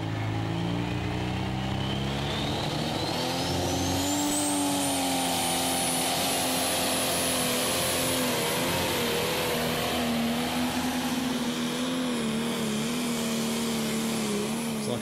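A pulling tractor of the Herleby type roars through a tractor pull run at Brande 2014, a loud, continuous engine blare with a high whine that climbs early and then holds steady for the whole stretch.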